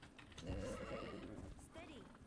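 Horse whinny in The Legend of Khiimori video game, a brief neigh rising over hoof clip-clop and background game sound, with a voice talking over it.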